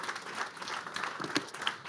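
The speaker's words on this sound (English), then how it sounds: "let's give them one more round of applause for getting the courage to be on stage" A crowd at a web development demo day applauds with steady, dense clapping for a couple of seconds, moderately distant.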